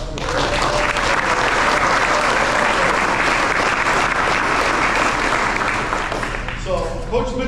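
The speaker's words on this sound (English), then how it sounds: "round of applause for the" An audience at an end-of-season youth sports awards event applauds the boys' team, a loud, dense, continuous wash of many hands clapping that holds steady before a voice briefly cuts in near the end.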